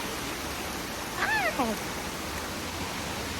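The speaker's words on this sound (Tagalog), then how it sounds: "Dito na kami sa Conoco Waterfalls." Konoko Falls in Jamaica gives a steady, broad rush of falling water throughout. A brief high vocal exclamation rises over it midway.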